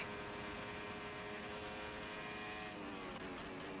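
A Formula 1 car in a racing video game at the Belgian Grand Prix screams at high revs with DRS open, a steady loud engine whine that shifts pitch near the end as it keeps pulling hard.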